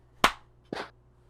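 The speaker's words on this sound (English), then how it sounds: "Clap." Two sharp hand claps about half a second apart, close and crisp in a quiet room, marking sync points for a gaming podcast recording.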